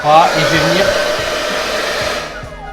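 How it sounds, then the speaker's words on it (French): A handheld hair dryer blows loudly and steadily at close range while hair is brushed, its whine and airflow holding constant before tapering off at the end. "je vais juste prendre ma brosse et mon sèche-cheveux"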